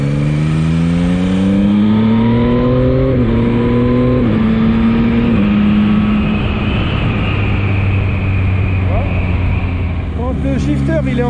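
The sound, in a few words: Yamaha MT-09 motorcycle downshifting with automatic throttle blip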